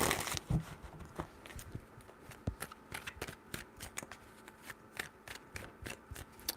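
Tarot cards are shuffled by hand in a long run of crisp, rapid riffling snaps and flutters, close and fairly quiet, with an uneven rhythm and no voice.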